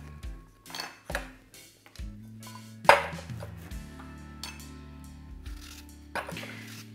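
A peeled Granny Smith apple being cored and thinly sliced by knife for pie filling, with a series of close, distinct cuts and a few knocks of the blade against a board, and no talking.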